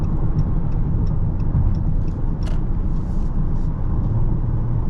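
A 2023 Dodge Charger GT gasoline engine rumbles steadily and loudly throughout while driving, a deep continuous drone with faint clicks and rattles on top.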